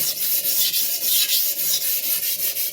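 A Clyde Cutlery chef knife is stroked along a sharpening stone, giving close, gritty scraping rubs in a steady back-and-forth rhythm of about five or six passes a second, with no talk.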